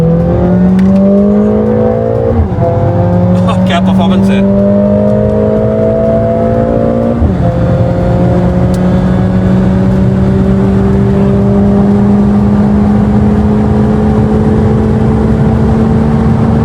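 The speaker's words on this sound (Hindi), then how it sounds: "50 पे अभी गाड़ी 4th गियर में है, और मैंने पूरा पंजा दबा दिया।" Mercedes A45S AMG at full throttle in fourth gear on an Indian road, the engine note climbing steadily in pitch with brief dips at shifts, loud and close inside the cabin, with a short excited remark from a man.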